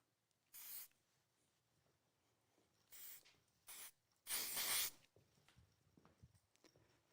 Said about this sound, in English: tiniest bit of Paul Mitchell spray wax.